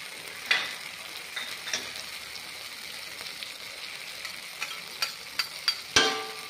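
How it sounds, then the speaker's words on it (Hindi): A soft, steady sizzle of green chilies and red chili-garlic paste frying in a pan for okra and boondi curry, with occasional scraping and clinking as a spoon stirs them. "दो मिनट तक फ्रेंड्स हम फ्राई करेंगे सभी चीज़ों को"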